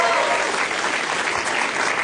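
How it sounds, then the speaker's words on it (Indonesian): Audience applause welcoming stand-up comedian Bintang to the stage at a comedy show, a brief, continuous burst of clapping from the crowd. "tepuk tangan buat Bintang"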